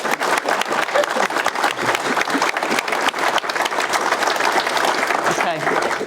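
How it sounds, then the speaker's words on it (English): Audience at a Pride in Leadership event applauding with steady, dense clapping from a crowd that fills the whole stretch and stays loud throughout. "Can we give Sarah a round of applause?"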